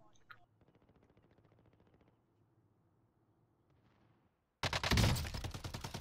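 Rapid gunfire in Call of Duty: Modern Warfare, starting as faint, distant rhythmic bursts and ending in a sudden loud, close volley and blast, with players talking.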